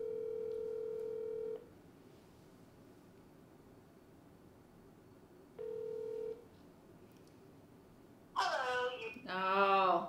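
Telephone line dial tone: a steady tone that cuts off, silence, then a short tone burst and a quick run of dialing and ringback-like tones at the end, fairly faint and with no talking.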